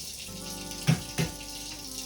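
Tap water runs steadily over a cut leek in a home kitchen, with two short splashy bursts close by as the leek is moved under the stream.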